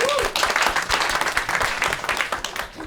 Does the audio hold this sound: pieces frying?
no